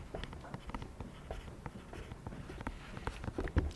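A pencil scratches across paper in a class balancing chemical equations, making irregular close-up strokes and taps that come quietly for several seconds.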